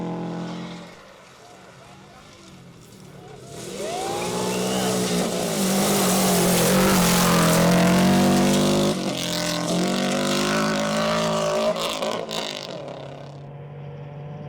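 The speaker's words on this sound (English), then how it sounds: "Owen Jones puts on a great driving display for the appreciative spectators" A rally car at the Algoa National Rally in 2024 approaches and passes nearby, its engine revving and shifting through gears as it swells to a loud peak and then fades away.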